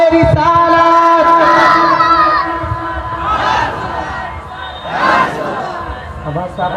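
A gathered crowd at a religious devotional event shouting slogans, a loud group call with voices rising together, then two further surges of massed shouting separated by lower murmur, close and echoing.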